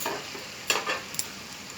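Ghee sizzles in a pan of egg curry as it is stirred, a soft steady frying hiss broken by a few brief scraping stir strokes, close and fairly quiet.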